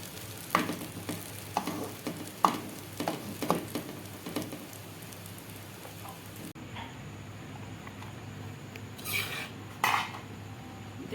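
Fried egg vegetable pasta is scraped and tipped from a pan into a bowl, with several clinks and scrapes of a utensil against metal. A soft sizzle runs underneath, and the handling is close and fairly quiet.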